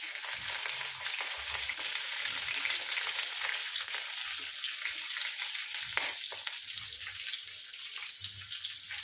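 Onions fry in a pan, giving a steady close crackle and sizzle with a few soft clinks and stirring sounds beneath it, and no talking.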